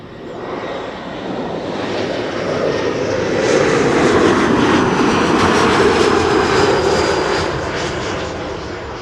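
An airliner arriving to land at Schiphol Airport roars steadily overhead, swelling to a loud broad engine rush in the middle and easing away toward the end, with no talk.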